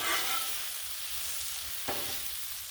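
Spinach and tomatoes frying on a Blackstone griddle give a steady, fairly loud hiss that runs the whole time, with a brief stir or scrape near the end.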